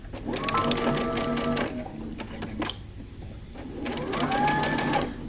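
A sewing machine stitches waist darts through lining and fabric for the back of a top, in two sustained whirring runs separated by a brief pause, close and clear.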